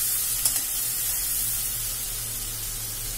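Spice paste for an egg curry with tomato sizzles steadily in a hot pan as it is sautéed, a soft continuous hiss with a faint low hum beneath and no talking.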